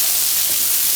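Chopped onions sweating gently in a pan give off a steady, soft hiss for a brief moment, with no voices over it.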